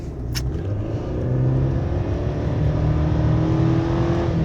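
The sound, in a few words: 2021 Chevy Silverado pickup engine revving at half throttle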